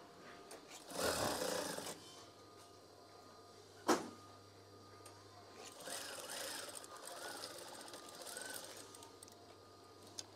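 Sewing machine stitching crab eye curtains in short bursts, a faint whirring run near the start, a sharp clack, then a longer quieter stitching run, close by in a quiet room.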